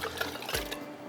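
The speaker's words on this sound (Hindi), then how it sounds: "यहाँ पर मेरे पास है ये इसका पाइनएप्पल का थोड़ा सा पानी भी है, ये भी मैं इसके साथ ही डाल देती हूँ।" Pineapple juice poured into a sugar mixture for pineapple lassi, a short, close splash and trickle of liquid with a brief gurgle, no talk.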